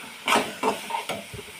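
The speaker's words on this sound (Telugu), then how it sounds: "బాగా ఫ్రై చేసి ఆయిల్ బయటకు వెళ్ళిన వరకు ఫ్రై చేసుకోవాలి మనం ఇందులో" Curry for a palak paneer dish frying in oil in a pan, with a few bursts of sizzling and stirring clatter, close and fairly quiet.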